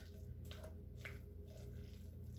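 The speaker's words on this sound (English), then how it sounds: "we're going to mix all this up" Chicken salad being mixed with mayonnaise, soft wet squishing and smacking as a thick, stiff mixture is stirred, a few faint sticky squelches over a low background hum.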